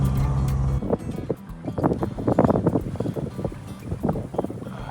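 A sailboat under full main sail moves through the water near the San Juan Islands, with a low hum early on, then irregular water sloshing and wind buffeting the microphone.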